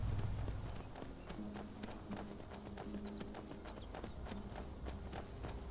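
Horse-drawn caravan in the video game Legends of Buck Russo: steady rhythmic hoof clip-clops at a trot, moderately close, over a continuous low rumble of rolling wheels and faint background sounds.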